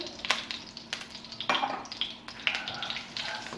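Cumin seeds sizzling in two to three tablespoons of hot oil in a pan, a soft steady crackle with small pops and stirring clinks, fairly quiet and close, with no talking.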